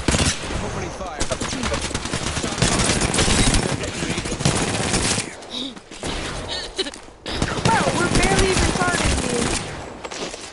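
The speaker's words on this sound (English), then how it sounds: "Opening fire." Rapid video game gunfire crackles in dense automatic bursts, loud and close, dropping out briefly twice before resuming, with voices talking over the shooting.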